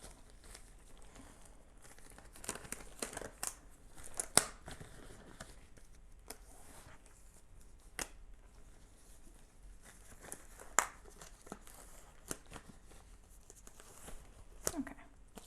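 Disposable gloves being peeled off sticky hands and fresh ones pulled on while working with jeweler's epoxy clay, a string of soft close crinkles, snaps and rustles in quiet bursts with no talking.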